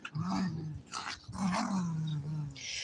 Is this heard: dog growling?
yes